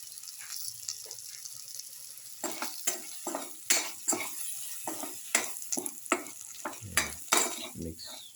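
Spices stirred into frying okra and tomato casserole, with repeated scraping strokes of a utensil against the pan over a soft sizzle, rhythmic and close.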